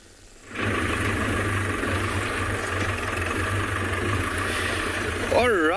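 A safari vehicle engine idles steadily and close, a constant low rumble that starts abruptly and holds throughout, with a brief warbling sound near the end.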